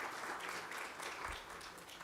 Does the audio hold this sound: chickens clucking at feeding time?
no